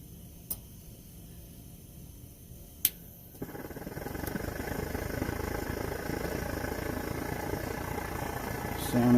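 A primed Svea 123 camping stove catches after a few light ticks and settles into a steady, close, broad roar that holds to the end.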